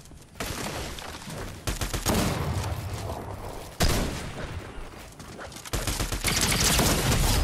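Sustained bursts of assault rifle fire in the video game Fortnite, loud and continuous with brief gaps and heavy layered shots, with no talking.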